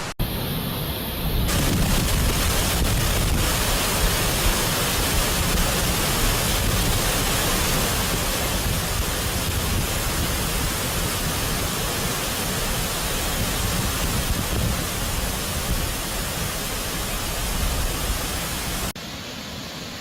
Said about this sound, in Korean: 폭포를 제대로 보려면 계곡물로 들어가야 합니다